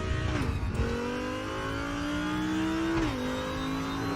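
An Audi race car engine in RaceRoom Racing Experience drones steadily and loudly, with a gear shift early on and a slowly rising pitch that dips again near the end.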